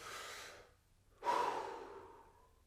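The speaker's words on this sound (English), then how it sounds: "Deep breaths in. I want to hear you breathe." Two deep breaths close up: a long airy exhale, a brief pause, then a stronger, noisier breath that slowly trails off.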